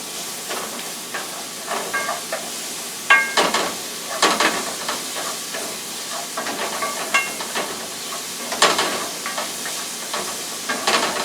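Garlic paste and onions sizzling in a hot pan for a salmon stew, a steady bed of frying hiss broken by scattered sharp crackles and pops, with no voices over it.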